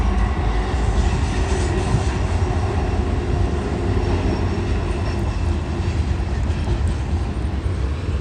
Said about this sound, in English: Of course, we got a train coming now.